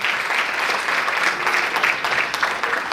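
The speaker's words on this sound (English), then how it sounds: "Let's welcome him with a big round of applause" Steady, dense applause from a school audience at an investiture ceremony as the head boy comes up to give his acceptance speech, filling the hall evenly from start to finish with no talk over it.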